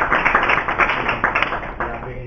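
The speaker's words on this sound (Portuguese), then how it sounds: "nós vamos pedir uma salva de palmas" Applause from a lecture audience in a Portuguese-language class, a steady patter of many hands clapping at close range for a couple of seconds with some voices mixed in.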